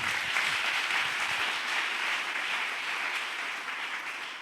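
A church congregation applauds to acclaim the Lord during a sermon, a dense, steady wash of many hands clapping together that fades slightly toward the end.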